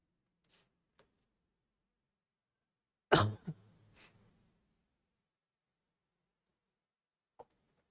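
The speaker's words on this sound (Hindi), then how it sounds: "खांसी बहुत ज़्यादा चल रही है" A lone cough bursts out loudly and is followed by a short rough throat-clearing, with a few faint clicks before it and after it in an otherwise quiet room during a reasoning lesson.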